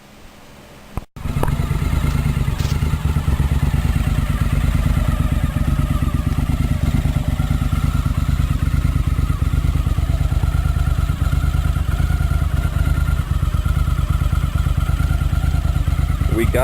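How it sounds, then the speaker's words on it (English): Honda CX500 Turbo motorcycle engine running with a newly fitted clutch, starting up after a brief click and then idling loudly and close with a steady throbbing rumble and light mechanical clatter. "We got a new clutch for 50 bucks on Craigslist, and it sounds beautiful now."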